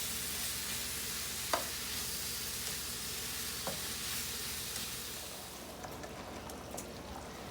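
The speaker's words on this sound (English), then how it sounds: "we're going to continue browning our hamburger" Ground beef for homemade lasagna browning in a pan: a steady, close sizzle and crackle of frying meat, with a couple of brief scraping stirs and the sizzle easing slightly near the end.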